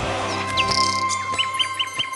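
Nightingale singing in a retelling of the nightingale and the emperor tale: a series of short bright chirps and rising whistled notes, evenly spaced and fairly close, over a steady low background hum.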